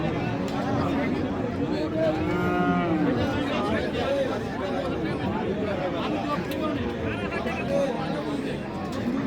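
Crossbred and Friesian bulls and calves low amid a busy livestock market at Ambari in Dinajpur, Bangladesh, with crowd chatter and babble filling the background continuously.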